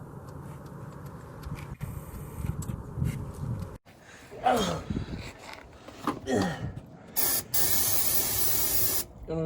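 Aerosol spray coating applied to Dodge Dakota engine parts, a water pump and timing cover area, in several loud hissing bursts of varying length, close up.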